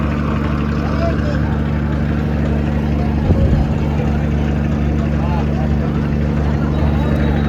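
A passenger launch engine drones steadily on a river, with a constant low rumble and hum near and loud, while someone talks over it.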